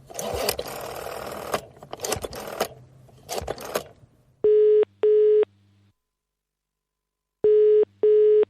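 A telephone ringing tone in the UK style: paired double rings of a steady tone, two bursts, a pause, then two more. Noisy rustling sounds come before the rings.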